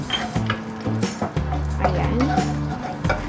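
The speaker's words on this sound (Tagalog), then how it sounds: "Isot na natin ang ating bawang." Garlic sautés in oil in a pan with a moderate sizzle, mixed with stirring and the clink of a utensil on metal while someone talks briefly.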